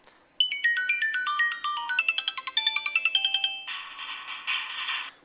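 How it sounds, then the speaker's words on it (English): A bright electronic Sony Ericsson ringtone plays alone on a Sony Ericsson Xperia X10: a quick run of rising and falling melodic beeps, then a sustained buzzy chord pulsing twice before stopping. "Usual Sony Ericsson ringtone there."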